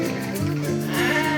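A sheep at a sheep contest gives a sustained, quavering bleat, close and fairly loud against a busy crowd background.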